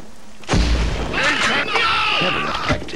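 Gunfire in the Killzone shooter on PS2: a heavy booming shot lands after a brief quiet, followed by sustained battle noise with crackling bursts and shouted voices throughout.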